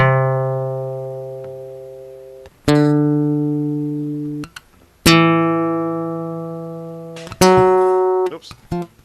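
Acoustic-style guitar lesson exercise played slowly, alternating struck chords with percussive body hits: four separate ringing strums, each decaying alone before the next, with no talking.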